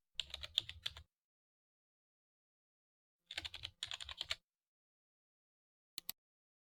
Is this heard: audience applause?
no